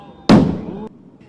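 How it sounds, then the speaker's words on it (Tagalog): A large crying cow firecracker set off on an open court during New Year's Eve celebrations in Tondo bursts in one loud, sharp blast that rings briefly and then cuts off. "Tulad ng crying cow na yan na pinaputok sa open court ng Masangkay"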